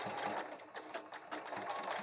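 A sewing machine stitching a quilted sunglasses case and automatically running its reverse stitch, a fast steady mechanical whir with slight rhythmic pulses, close and continuous.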